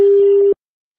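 Single steady telephone tone from a call waiting to be picked up, clear and close, cutting off abruptly after about half a second and followed by silence.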